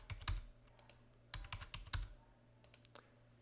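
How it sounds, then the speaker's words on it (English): Someone types a password on a computer keyboard, quiet close keystrokes in two short bursts of rapid clicks separated by pauses, with a few scattered taps at the end. "This is where you'll enter a password."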